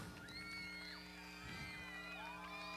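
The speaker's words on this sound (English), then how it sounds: "let's give Joshua a big round of applause" Crowd at a county fair BMX trick team show whooping, cheering and shouting for a young rider, a steady wall of mixed voices with high excited yells and children's shouts over a constant low hum.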